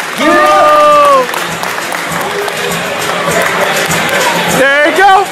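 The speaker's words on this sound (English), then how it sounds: "Round of applause." Crowd applause and cheering for the best-in-show winner, a dog named Yosemite Sam, at a pink pug event. Loud clapping mixed with a voice talking over it, easing slightly and then swelling again near the end.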